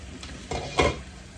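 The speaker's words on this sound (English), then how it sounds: "We're gonna let this simmer for a little while." Pan of fried cabbage with bacon and tomatoes simmers, giving a brief soft bubbling sizzle with a faint clink of cookware, close and quiet.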